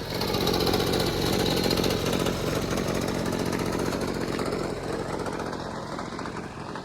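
Gutter cleaning vacuum fitted with Skyvac poles for third-story gutters, a loud, steady motor roar with a rough pulsing texture that holds throughout and eases slightly near the end, no talking.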